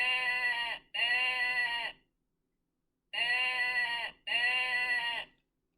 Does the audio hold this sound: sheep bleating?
yes